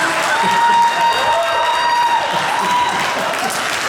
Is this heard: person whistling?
no